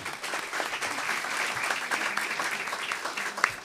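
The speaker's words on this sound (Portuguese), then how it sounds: "Obrigado. Aplaudam." An audience at a lecture on autism spectrum disorder gives steady, moderately quiet applause after a speaker finishes, with a few sharper claps standing out near the end.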